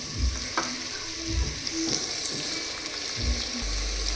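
An egg fries in a pan with turmeric, a steady close sizzle broken by low thumps and handling noises, with no talking.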